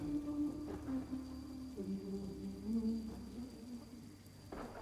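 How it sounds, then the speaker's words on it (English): Rain falling on a desert landscape in a TV fantasy series scene, a soft steady hiss of drops under low tonal music and ambience, fairly quiet throughout. "Oh, rain in the desert."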